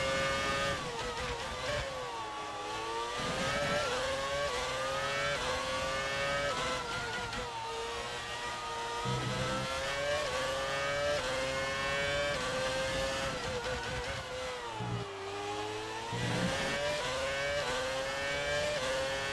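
Renault R26 Formula One car engine in F1 2019, a loud high-pitched V8 scream that holds steady, dips as it shifts down, then climbs again through a sustained lap.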